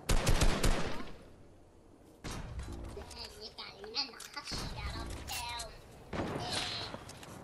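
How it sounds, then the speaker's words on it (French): Heavy sniper rifle shots ring out in a multiplayer video game match, with several loud broadband blasts spaced across the moment as players talk over the gunfire. "Attention, ça tire au sniper lourd"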